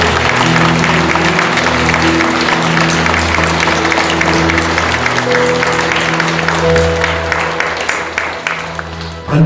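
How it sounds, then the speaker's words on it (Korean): Church congregation applauding after a closing prayer, a steady wash of clapping held over sustained organ or keyboard chords throughout, fairly loud and continuous. "우리 다시 한번 경례의 박수 부탁합니다."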